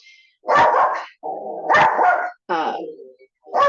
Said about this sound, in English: my dog has decided now he's going to start barking